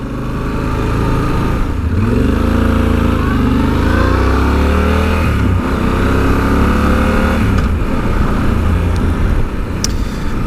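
A 2017 Yamaha XT1200Z Super Tenere motorcycle rides at speed, its loud close engine droning with rising and falling pitch as gears shift and the throttle opens, wind roar underneath.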